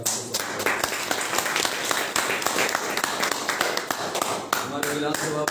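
Loud applause at a Nishad Party election meeting in 2022: dense, sustained clapping from a crowd, sharp and continuous throughout, with a voice faintly mixed in.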